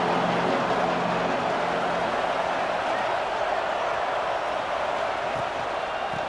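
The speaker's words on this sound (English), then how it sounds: "listen to this crowd noise" Stadium crowd at an Ole Miss versus Ohio State game in College Football 26, a steady loud roar of cheering filling the whole stretch with no breaks.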